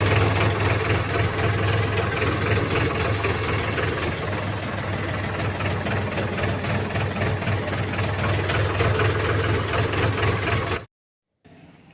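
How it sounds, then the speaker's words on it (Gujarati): A farm tractor's diesel engine runs near and loud with a steady chugging knock for about eleven seconds, then cuts out abruptly into silence followed by a faint low hum. "હવે આપણે ટ્રેક્ટર કાઢી લીધું છે વાડીની બહાર"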